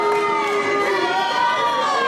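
An arena crowd at a WFC Hometown Heroes fight roars in a steady, dense wash of voices and shouting against champion Prince Mahalli, loud and continuous throughout.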